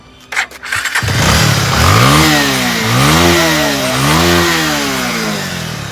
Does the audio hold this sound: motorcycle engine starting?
yes